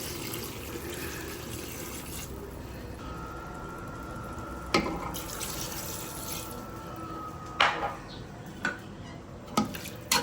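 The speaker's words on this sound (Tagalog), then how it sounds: "Ngayon guys, talagyan natin siya ng tubig." Water pours into a pot of beef cubes for Filipino caldereta in a steady, moderate stream, with a thin steady tone in the middle and a few sharp clanks toward the end.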